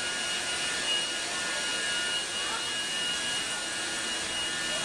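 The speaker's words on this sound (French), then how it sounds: "Ça, c'est le générateur d'ozone." An ozone generator running in a drinking water treatment plant, a steady loud mechanical hiss and hum with a faint high tone, continuous and unchanging throughout.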